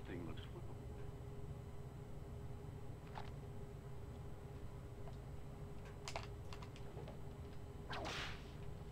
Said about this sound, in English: Ooh, good whip cracking sound.